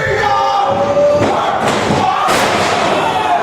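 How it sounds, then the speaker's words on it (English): A wrestling crowd at a Monster Factory show roars for Phil Winslow, loud sustained cheering and yelling with a couple of heavy thuds from the ring cutting through. "The crowd hot for Phil Winslow."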